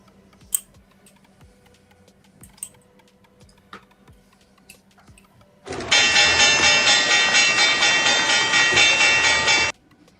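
A sudden loud, steady rhythmic rumbling clatter like a passing train starts partway through and runs about four seconds before cutting off, after quiet stretches with faint clicks.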